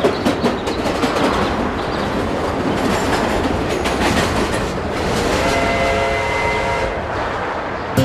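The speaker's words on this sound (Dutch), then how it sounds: "Mensen vonden de trein gevaarlijk en hij maakte veel kabaal." A train passes on rails with loud clickety-clack wheel rhythms, rumbling cars and a brief squeal of wheels, close and continuous throughout.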